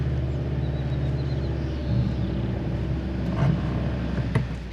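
A 2025 Hyundai Santa Cruz engine held back under throttle in snow mode while off-roading: a steady low rumble with slight swells, close and continuous, no voices.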